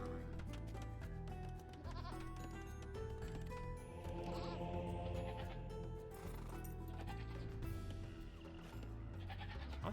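Sheep bleat repeatedly in Age of Empires II: Definitive Edition during the Lords of the West campaign, their bleats rising over steady in-game music with no speech.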